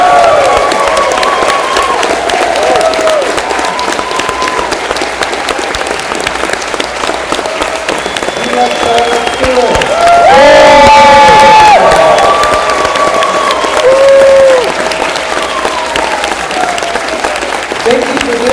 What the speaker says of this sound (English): maybe you guys even want to applaud for Charlotte